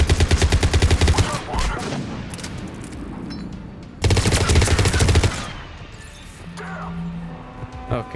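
Gunfire in the video game Mass Effect 3, two loud sustained bursts of rapid automatic fire close by, separated by quieter stretches of game ambience and a brief low electronic tone.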